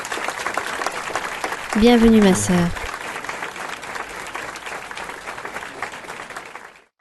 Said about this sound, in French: Un fort applaudissement pour notre Dieu et pour notre ministère.